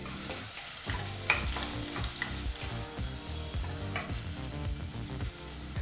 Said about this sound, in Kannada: ಈರುಳ್ಳಿನ ಹಾಕಿ 2 ರಿಂದ 3 ನಿಮಿಷ ಈರುಳ್ಳಿನ ಫ್ರೈ ಮಾಡ್ಕೋಬೇಕು ಮೀಡಿಯಂ ಫ್ಲೇಮ್ನಲ್ಲೇ